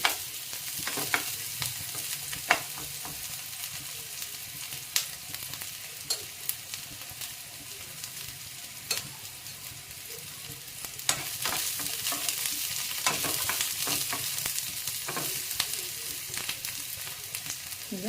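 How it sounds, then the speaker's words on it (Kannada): Onions with garlic being stirred and fried in oil for a masala dosa potato filling, a steady soft sizzle with repeated scraping stir strokes throughout, close and without talk. "ಹಾಗೆ ಈರುಳ್ಳಿ ಮಿಕ್ಸ್ ಮಾಡ್ಕೊಳ್ಳೋಣ ಸ್ವಲ್ಪ ಬ್ರೌನ್ ಕಲರ್ ಬರಲಿ"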